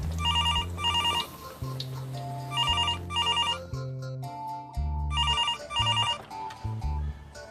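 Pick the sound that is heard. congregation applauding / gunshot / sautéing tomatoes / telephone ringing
telephone ringing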